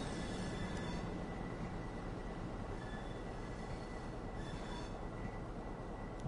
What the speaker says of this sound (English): So waiting for this train to move on.